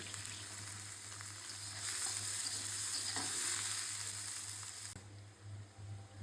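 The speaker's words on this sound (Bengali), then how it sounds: "ওকে আপনাদের দেখাচ্ছি পেঁয়াজটা ভাজা দিয়ে" Onions frying in mustard oil for an ilish bhuna paturi, a steady close sizzle and crackle with a brief stirring scrape, continuous throughout and no voices.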